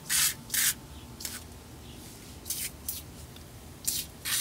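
Short bursts of Gunk degreaser sprayed from an aerosol can onto the engine components of a Ford Focus, several brief hissing spurts at irregular intervals with quiet pauses between, close by and fairly soft.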